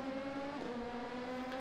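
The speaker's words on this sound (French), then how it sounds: "le bruit des P2 est indécent" LMP2 prototype race car engines in the Assetto Corsa racing game, a steady loud droning engine tone holding a sustained pitch throughout, with no talk.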